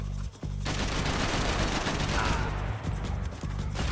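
Dense, continuous gunfire in the video game Max Payne 3, with rapid automatic bursts and heavy reports layered into a loud, unbroken barrage that barely pauses.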